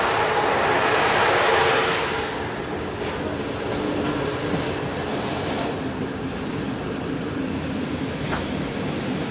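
A single double-deck railcar rolls along track crossing the Eastern Carpathians between Comănești and Miercurea Ciuc, giving a steady close rumble of wheels on rails that is slightly louder at the start, with no talk.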